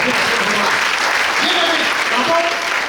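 A church congregation applauds the Lord, dense sustained clapping filling the room loudly and steadily throughout, with some voices faintly mixed in.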